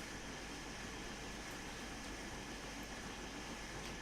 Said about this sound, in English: Oh, I hear trains.